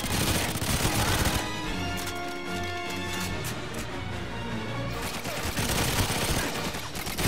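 Rapid automatic gunfire rattles in sustained bursts in GoldenEye 007 Reloaded, loud and continuous, easing briefly in the middle over a tonal game soundtrack before the shooting resumes.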